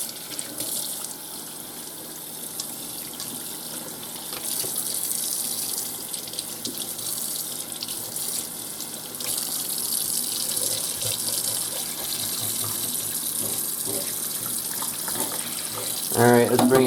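A kitchen tap runs steadily as a cleaned fish is rinsed under it, the water hissing continuously and splashing more heavily near the end.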